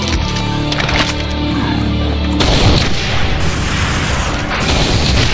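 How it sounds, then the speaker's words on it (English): A plasma cannon in the video game The Ultimate Doom fires with a deep booming blast, followed by a dense rumbling crackle that fills the whole space. "He has a plasma cannon."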